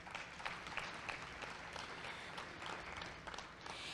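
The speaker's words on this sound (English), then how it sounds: "a round of applause for that" Audience applause at a chamber of commerce monthly luncheon, steady scattered clapping throughout, moderately distant with room ambience.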